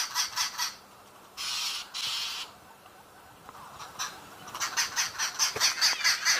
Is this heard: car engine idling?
no